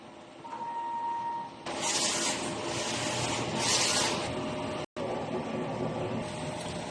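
A DTF printer runs a nozzle test print, its carriage whirring and hissing in bursts over a steady mechanical hum, with a short tone near the start.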